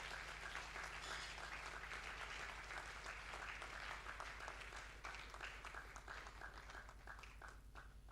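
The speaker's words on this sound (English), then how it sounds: "may I once again urge you to clap for this lecturer" An audience at a university inaugural lecture gives a lecturer sustained applause. Many hands clap together in a steady, dense wash that stays fairly faint and distant through the whole stretch, with a low hum beneath it.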